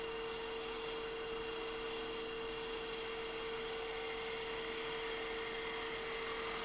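A wood-turning gouge cuts a sphere on a spinning lathe, giving a steady, continuous rasping hiss over a constant motor hum, close and unbroken.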